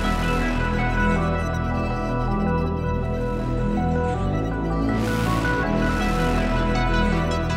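An eight-bar beat intro built in FL Studio plays loud and steady, with layered melodic tones over a deep bass, and bursts of airy noise land at regular points on the bar. No one speaks over it.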